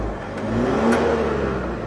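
An overhauled Isuzu 4JJ1 diesel engine running close by, a steady rumbling drone that rises and falls slightly as it revs, with no voices.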